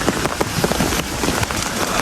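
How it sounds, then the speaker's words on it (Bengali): Heavy rain pours down in a continuous dense hiss with scattered close drop impacts, steady and fairly loud throughout, with no voices. "প্রচুর পরিমাণে বৃষ্টি হচ্ছে,"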